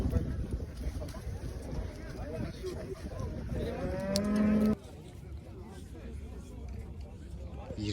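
A young bull calf at a Kyzylorda livestock market lets out one drawn-out moo amid the crowd's steady babble and wind noise, with people talking nearby throughout.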